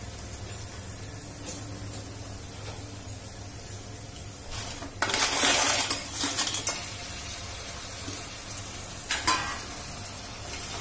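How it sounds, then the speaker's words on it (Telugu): Crabs tipped into a pan of frying onion and tomato for crab curry: a quiet background fry, then a loud burst of sizzling with utensil clatter in the middle, followed by further stirring scrapes and a brief clink. "ఇప్పుడు ఈ పీతల్ని కూడా ఈ ఉల్లిపాయ టొమాటో ముక్కల్లో వేసుకోవాలి"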